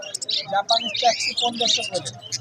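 Pigeons at a busy pigeon market in Khulna, Bangladesh, including Japanese-type birds, give bright chirps and calls close by, mixed with crowd chatter throughout.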